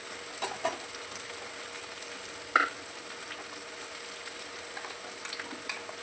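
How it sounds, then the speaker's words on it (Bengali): Onions frying gently in a pan until lightly golden, a soft steady sizzle with a few faint stirring clicks and taps, fairly quiet and with no talking. "পেঁয়াজগুলি ভাজা ভাজা হয়ে এসছে, খুব ভাজা করিনি, লাল লাল করিনি"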